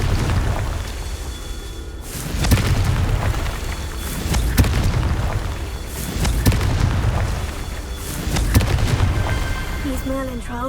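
Confringo blasting spell explosions in Hogwarts Legacy, a handful of deep booming blasts spaced a couple of seconds apart over a dense, continuous game soundscape.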